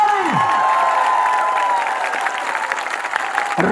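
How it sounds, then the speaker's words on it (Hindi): Crowd at a political election rally in Mewat breaking into sustained applause and cheering, a dense, loud wash of clapping that holds steady throughout with a brief tonal sweep at the start. "पहुंचाना अपनी तालियों का शोर।"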